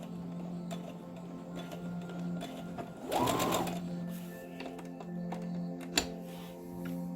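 A sewing machine running a back stitch on a shirt, a steady mechanical whir and rapid needle ticking with a short faster burst midway, close and alone.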